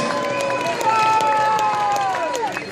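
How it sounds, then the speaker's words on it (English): A rally crowd at Whitehall in London applauds the police, with steady clapping and cheering that carries throughout, loud and close, with sustained shouts riding over the clapping. "Round of applause for the police."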